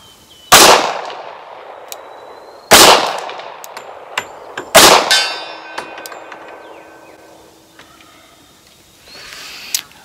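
Three loud, sharp gunshots from a Tisas A1 1911 .45 ACP pistol fired at a target at an outdoor range, spaced about two seconds apart, each followed by ringing metallic clangs and pings, with lighter clinks fading afterward.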